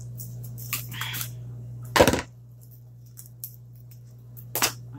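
Scissors or cutters snipping through the small stick of a pink Christmas gnome ornament: two sharp, close crunching snips separated by quiet handling rustles.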